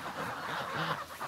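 Geese honk in a loose, overlapping chorus of nasal calls in a village, fairly faint and somewhat distant, with a few birds calling over one another.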